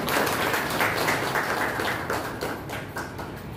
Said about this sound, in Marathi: सगळ्यांनी टाळ्या वाजवायच्या